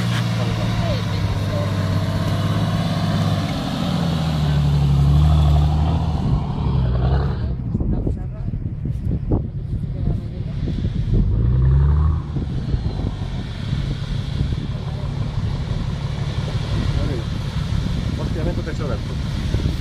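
A Nissan 4x4 engine drones loud and close on a muddy off-road hill-climb trail in Galicia, revving and shifting pitch as the vehicle works, with people talking over it.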